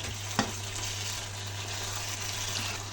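Padma pangas fish masala cooks in oil with a low, continuous sizzle and bubbling, broken once early by a single sharp stir or clink, with no talking.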